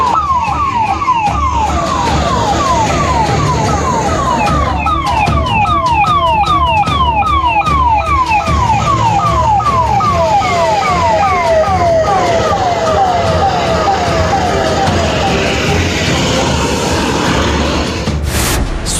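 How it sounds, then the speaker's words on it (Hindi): Police vehicle sirens from a convoy arriving at Banda jail, a loud, close rising-and-falling wail repeating rapidly for most of the stretch, with engine rumble beneath and a sharp burst near the end. "ठीक इसी वक्त पुलिस की गाड़ियों के सायरन से शहर का सन्नाटा टूटा"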